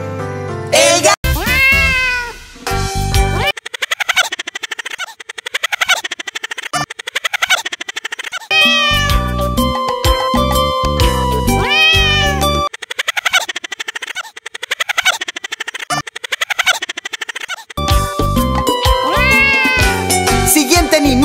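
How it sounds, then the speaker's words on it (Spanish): Playful cat meows in a children's animal song, many bright repeated mews over bouncy music, with a cheerful sung vocal alongside them. "¿saben qué animal hace miau?"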